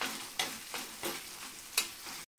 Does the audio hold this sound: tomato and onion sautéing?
yes